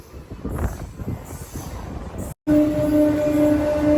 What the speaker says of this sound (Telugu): మంచిలి రైల్వే స్టేషన్ నుంచి మన ట్రైన్ అయితే స్టార్ట్ అయిపోయింది